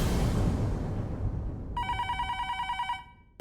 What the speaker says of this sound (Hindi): फिर से फोन, ये जरूर नट्टू काका और बागा का होगा।